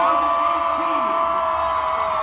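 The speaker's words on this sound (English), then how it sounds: "Let's have a round of applause once again for your 2018" A large crowd cheers and whoops steadily at a Boston Marathon women's champion ceremony, a dense continuous roar with a public-address tone running through it.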